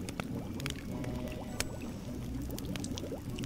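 Water pours into a pot in a point-and-click adventure game, a steady splashing gush that runs alone for several seconds with small bubbly clinks on top.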